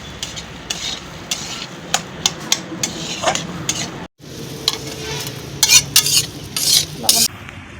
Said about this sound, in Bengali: এবার পুরা মাছ কড়াই দিয়ে মশলাপাতি ভেজে নিয়ে মাছটাকে কড়াই দিয়ে নেড়ে চেড়ে